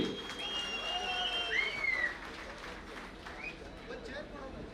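A crowd claps in a steady burst of applause at a public event in Karnataka, with a few whistles rising above it.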